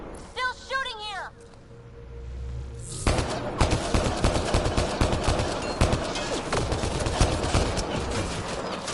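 Dense rapid gunfire from a Mass Effect: Andromeda firefight erupts after a brief voice line, continuous bursts and shots filling the rest of the clip, loud and close.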